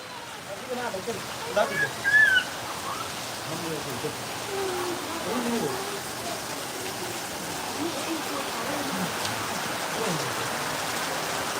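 Steady rain falls outdoors in a rural village, a continuous broadband hiss of drops on surfaces throughout, with a voice speaking briefly and faintly over it near the start.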